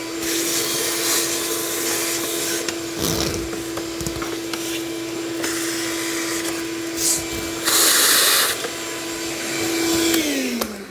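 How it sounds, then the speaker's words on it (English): A vacuum cleaner sucks up wood shavings during a bumper assembly, holding a steady whine with rattling bursts as debris is drawn in, then winding down at the end. "So we'll vacuum up what we can there."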